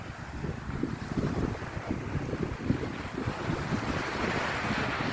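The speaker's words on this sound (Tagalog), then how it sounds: "Dagat." Sea waves and steady wind at Polillo Island, Quezon, with a continuous windy rush and rolling surf close to the microphone, wind buffeting throughout and no talking.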